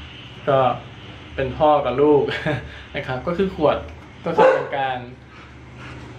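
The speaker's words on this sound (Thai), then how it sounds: "เสียงหมาเห่ามาอีกแล้ว" A dog barks and yips in the background while someone speaks Thai in the foreground, the short barks scattered between his words.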